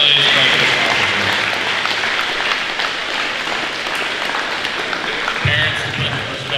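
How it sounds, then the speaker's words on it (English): A middle school academic awards crowd breaks into a long, dense round of applause, loud and sustained, with voices mixed in among the clapping. "Let's give these guys a big round of applause."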